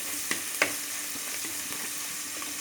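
Garlic, ginger and green chillies frying in hot oil in a clay pot give a steady, low sizzle throughout, broken by a couple of sharp clicks early on.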